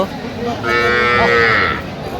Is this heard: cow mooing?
yes